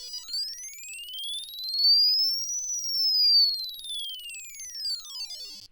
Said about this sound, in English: some of the tones don't sound exactly like what you would think, and it just has to do with kind of the structural properties of the buzzer